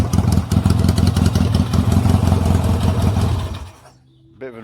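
A warm Yamaha XS650 motorcycle engine runs close by with a loud, lumpy rhythmic thrum, then cuts out abruptly near the end, leaving near silence before a brief clatter.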